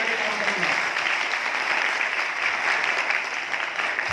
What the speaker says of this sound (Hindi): बजा लो तालियां अच्छे से बजा लो।